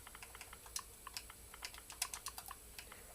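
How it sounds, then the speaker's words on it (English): Rapid, light clicking of fingers typing on a computer keyboard, a quiet, irregular patter of keystrokes close by, with no talking. "give me a second to finish typing this first"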